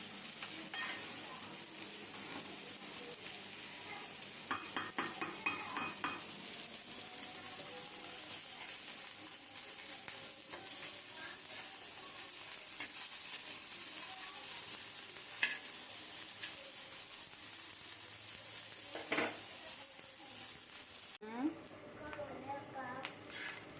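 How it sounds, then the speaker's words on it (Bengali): Pangasius fish roe frying with potato in oil, a steady bright sizzle running throughout with occasional stirring clinks and a voice talking over it. "মাছের ডিম বাজি করতেছি সাথে আমি একটা আলু দিচ্ছি পাঙ্কাশ মাছের ডিম"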